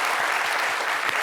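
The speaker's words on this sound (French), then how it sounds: "Il faut applaudir encore, c'est très, très important." Audience applause at a talent event, a dense steady wash of many hands clapping close by for just over a second with no voices.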